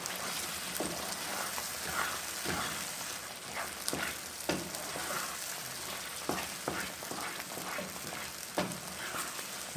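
Brinjal bharta sizzling in a pan with lemon juice and chopped coriander as it is stirred and mixed, soft steady frying crackle with irregular scraping stir strokes, close and fairly quiet.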